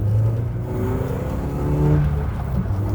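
A tuned Volkswagen Jetta engine revs loudly nearby, its pitch climbing and falling through a couple of throaty rises with a deep rumble underneath.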